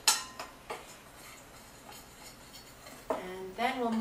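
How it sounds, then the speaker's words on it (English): Flour, brown sugar and salt being mixed in a bowl, sparse clinks and taps of a utensil against the bowl, with someone speaking over the later part. "And you're going to mix these ingredients all up."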